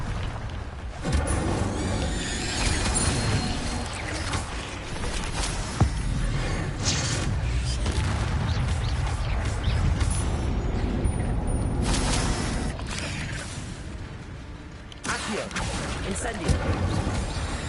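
Incendio fire spells cast in Hogwarts Legacy during a fight with a giant spider, a dense stream of crashing, booming impacts and bursts, with speech mixed in among the battle noise.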